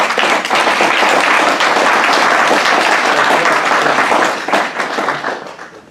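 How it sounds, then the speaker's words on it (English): An audience claps together in a dense, loud burst of applause lasting several seconds, holding steady before tapering off toward the end. "if you give him a nice round of applause"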